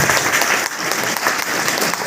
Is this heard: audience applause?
yes